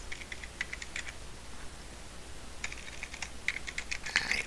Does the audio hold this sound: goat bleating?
no